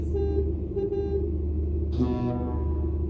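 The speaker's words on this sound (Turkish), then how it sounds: "Sesimiz böyle, kornalarımız böyle." In Euro Truck Simulator 2, a Mercedes-Benz Actros MP5 truck hauling a reefer trailer idles with a low rumble while its horn gives two quick toots, followed by a longer, deeper honk.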